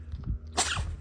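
An African caracal sneezes twice in quick succession, a sharp close burst followed by a softer second sneeze, with no talking during the sneezes.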